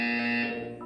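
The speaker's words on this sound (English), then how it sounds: "You will hear a buzzer. When you hear the buzzer, look up at the ceiling." An electronic buzzer from the video game Portal 2 blares as a sustained harsh tone for most of a second, close and prominent, then fades into low ambient hum.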